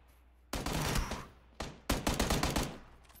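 Gunfire in the battle-royale game PUBG: a sustained burst of rapid shots, a short pause with a single blast, then another long stuttering volley, loud and close with no talking.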